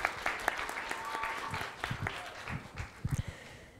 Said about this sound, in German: Ich möchte auch klatschen.